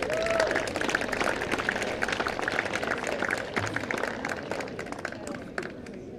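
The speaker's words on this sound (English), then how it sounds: "please give a massive round of applause as they do our coin toss for us" A tennis crowd at the Lexus Surbiton Trophy applauds during the coin toss, with steady, dense clapping that holds for several seconds at moderate volume before thinning slightly toward the end.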